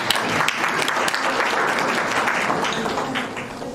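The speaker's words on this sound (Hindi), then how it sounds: "तो एक बार जोरदार अपने लिए तालियां बजाइए।" Continuous, dense applause from an audience at a Rajyoga meditation program on de-addiction, held at an even level throughout as many hands clap together.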